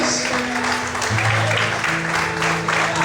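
A church congregation claps during a Sunday morning sermon, a steady wash of applause with sustained organ or keyboard tones underneath.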